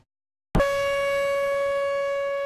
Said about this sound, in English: Outdoor warning sirens, the sound many listen for when severe weather is barreling down.